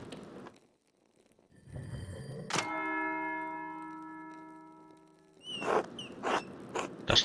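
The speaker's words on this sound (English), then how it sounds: "That's the bell for Sext." An abbey bell rings for Sext in the game Pentiment: one loud struck tone that hums and slowly fades over several seconds, followed by softer clinks and ambient activity.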